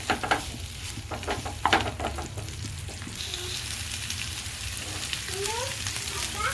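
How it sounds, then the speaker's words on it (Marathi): Onion frying in a pan for a dry chicken dish, a steady close sizzle with a few sharp stirring scrapes at the start, then an even, continuous hiss. "कांदा चांगला फ्राय करून घ्यायचा आहे।"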